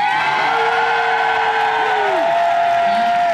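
A crowd at a dance contest cheers and applauds in a loud, dense, continuous roar, with a few whistle-like rising and falling tones cutting through the noise.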